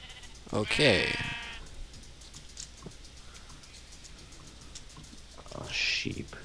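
Sheep in the Minecraft video game bleat twice, a short wavering baa near the start and another near the end, with quiet gaps and faint clicks in between and a voice talking at times.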